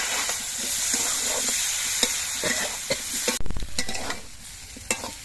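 Mixed vegetables stirred and fried with a ground green chilli spice paste in a wok, a steady loud sizzle with repeated scraping and clanking of a spatula against the pan.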